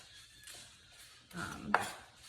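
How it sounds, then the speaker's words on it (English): A knife slicing an onion into medium-thin strips on a cutting board, a few quiet close taps and cuts with one sharper clack near the end. "So I'm gonna half it and then cut it into some medium to thinnish strips."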